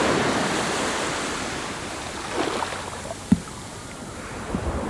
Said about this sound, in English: Beautiful, beautiful, quiet beach today.